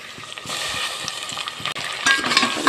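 Eggplant sizzles in hot oil in a home kitchen pan, a steady close frying hiss with occasional stirring clinks and scrapes, brightening in the final second.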